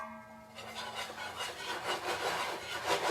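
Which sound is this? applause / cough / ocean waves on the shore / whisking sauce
whisking sauce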